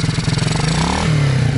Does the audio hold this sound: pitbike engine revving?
yes